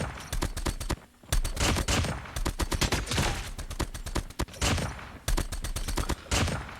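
Rapid bursts from the Man-O-War assault rifle in COD Mobile, loud clustered shots in repeated volleys separated by short pauses, with no talking.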